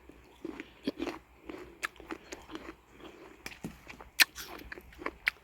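Someone bites and chews an unripe apple up close, with repeated sharp crunches and wet chewing in an irregular rhythm and no talking.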